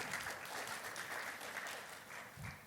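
A congregation at a Sunday church worship service claps together in a brief, faint, even patter with no voices.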